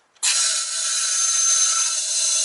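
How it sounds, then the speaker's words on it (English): Air rushes out of an RB25DET engine intake plenum during a compression test on an engine with low compression. It is a sudden, loud, steady hiss that starts abruptly and holds for about two seconds. "If you listen, you'll hear the air rushing out the plenum there."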